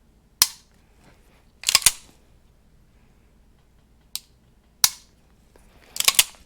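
Trigger of a Rock Island Armory Tac Ultra 1911 10mm pistol being pulled and reset: five crisp, close metallic clicks, some doubled, spaced irregularly across near silence.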